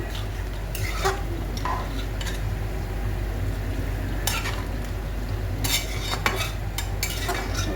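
A spoon stirs and scrapes through sizzling potato curry in a pan after garam masala powder goes in, in several distinct scraping strokes over a constant frying hiss.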